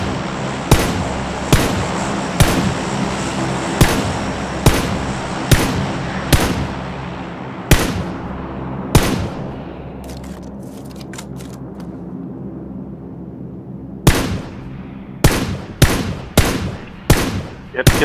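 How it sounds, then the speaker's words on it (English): Rifle fire in PlayerUnknown's Battlegrounds cracks out in sharp, loud single shots at a steady rhythm, then pauses for a quieter stretch of faint clicks before another rapid run of shots. "Just shoot the other one that's laying down."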